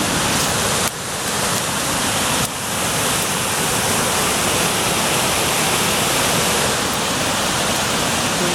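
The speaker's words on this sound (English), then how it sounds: "Oh wow, look at waterfall here." A waterfall at Sprotbrough Lock in Doncaster roars steadily at close range, a loud continuous rush of falling river water with no talk.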